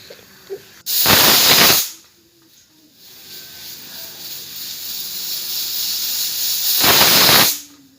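A pressure cooker cooking pulao lets off two loud, sharp steam whistles, each a hissing blast of about a second. A softer, steady hiss continues between them.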